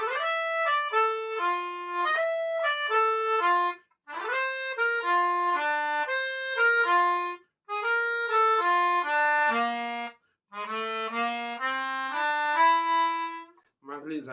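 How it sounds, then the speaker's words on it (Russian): A melodica plays a melody with glissando slides between notes in reedy, sustained phrases separated by brief pauses, close and clear with no other sounds. "Глиссандо звучит вот так."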